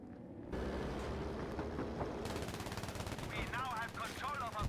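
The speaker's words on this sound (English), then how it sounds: "They're machine gunning me too." Rapid machine gun bursts and gunfire in a Battlefield 5 game session with the JU-88 C bomber, loud and continuous, with engine roar and whistling effects layered in.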